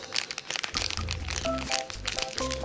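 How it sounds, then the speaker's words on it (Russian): Small crinkly packets of powdered play food for dolls are handled close up, giving a busy run of loud crackling and crumpling rustles, with a faint musical tone underneath. "Сейчас мы возьмем еще два пакетика."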